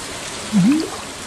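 Steady rain falls in the Stardew Valley video game as a soft, even hiss, with a brief rising in-game tone partway through; no one speaks.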